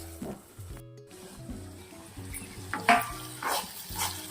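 Green chillies simmer in a pan for chutney, giving a soft, steady bubbling sizzle with a few louder clicks and stirring scrapes, heard close with no talk.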